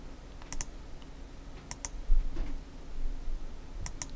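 Clicks from a computer mouse while running Photoshop actions: three sharp, isolated double clicks spaced about a second or more apart, over quiet room noise.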